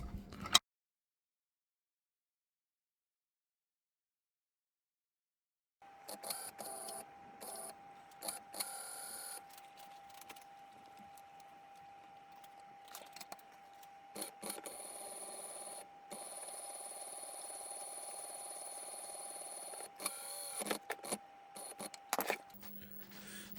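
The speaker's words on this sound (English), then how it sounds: "then I'm going to run the pump for a bit and see what happens" A small hydraulic pump on a 1/14 scale CAT 980 model loader starts after a silence and runs with a steady, high electric whine and hum. Irregular clicks and buzzing shifts come and go over the drone.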